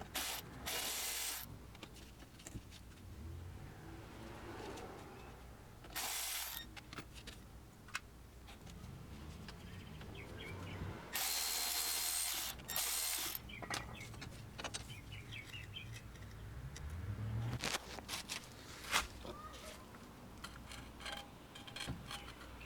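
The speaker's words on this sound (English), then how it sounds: "I'm going to switch to a shorter 15mm socket" Ratchet clicking in short bursts as a 15mm socket loosens a bolt behind the rear shock absorber on a Chevrolet Cruze, near and moderately loud, with pauses and some handling noise between.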